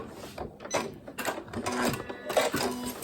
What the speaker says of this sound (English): I'm just going to go back over those first few stitches